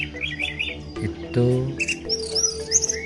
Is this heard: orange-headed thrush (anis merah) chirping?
yes